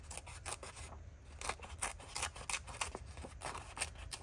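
Scissors snip through a paper tag for a sewing-themed craft project, a quiet run of close, crisp repeated cuts with soft rubbing of paper between them.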